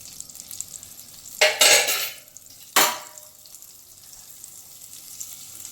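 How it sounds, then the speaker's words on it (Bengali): Butter stirred into a hot pan of butter chicken sauce gives two short, loud bursts of sizzling, scraping movement against a quiet background, with no voices. "এরপর আমি বাটার দিয়ে দিচ্ছি"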